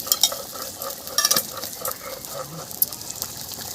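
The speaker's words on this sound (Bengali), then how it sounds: "এবার আমি জল দিয়ে দিচ্ছি" Water goes into a hot pan where turmeric-spiced oil is frying for a fish curry, setting off a steady close sizzle. Brief clatters from stirring cut through the hiss.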